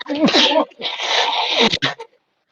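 A single sharp sneeze bursts out near the start, followed by a short stretch of voices talking nearby during a tabletop role-playing game session.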